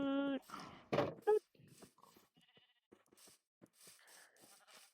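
Sheep in a video game bleating near the start, a couple of clear wavering calls, followed by quieter clicks and faint game sounds over a few seconds.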